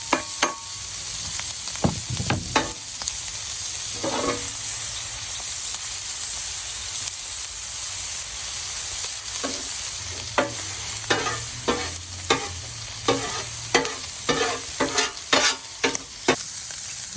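Peppers sizzling in avocado oil on a Blackstone flat top griddle, a continuous bright hiss with a burst of louder crackle early on and frequent clicking spatula taps toward the end, no voices.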